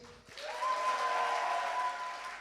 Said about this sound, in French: je vous demande d'applaudir très fortement Lia Johanny et Jake